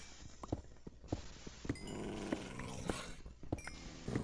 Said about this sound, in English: I must be near a cavern with some hyenas, because I can hear some growling.